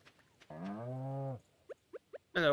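A cow in Stardew Valley gives a long, loud harmonic moo, followed by a few short game sound effects and a brief burst at the end.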